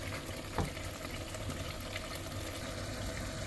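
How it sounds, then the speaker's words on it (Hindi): Chicken frying in a pan in a home kitchen, a steady, soft sizzle with faint crackles and one brief clink, no voices. "ये देखिए बस चिकन भी मैंने इधर भी भूनने के लिए रख दिया।"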